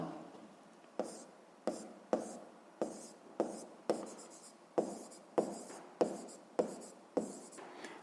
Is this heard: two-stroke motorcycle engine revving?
no